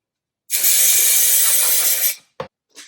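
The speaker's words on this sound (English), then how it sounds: "I'm just going to spray" An aerosol can sprays fusible stabilizer onto fabric for machine embroidery: one close, loud hiss of about a second and a half, then two short faint clicks or bursts.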